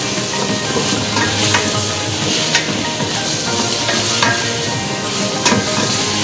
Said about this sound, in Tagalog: Yan, halo lang. Mabilis lang itong maluto.